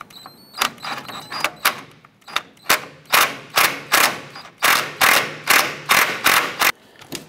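Wrench ratcheting and clicking on a control arm nut of a 1994-2004 Chevrolet S10, with a rapid run of sharp, close metallic strokes repeating steadily through the work and no talk.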